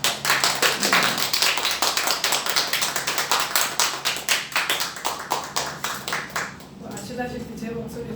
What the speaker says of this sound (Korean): 크게 한번 박수를